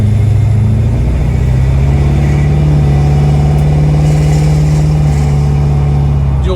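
A 1969 Chevrolet Camaro Pro Touring with dual exhaust rumbles steadily while driving, a loud, close, deep engine note rising slightly in pitch as it pulls, with no talking.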